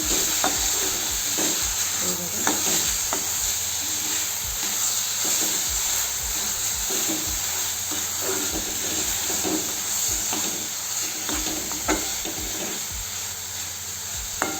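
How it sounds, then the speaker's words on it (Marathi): Grated fresh coconut roasts in ghee over a low flame, with a steady soft sizzle and repeated scraping strokes of a spoon stirring it in the pan. "बारीक केलेलं खोबरं घालू। चांगल्याने फिरून घेऊ कमी गॅसवर।"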